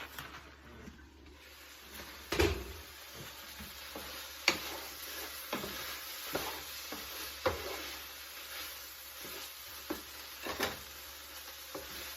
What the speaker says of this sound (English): I'm going to give our meal a stir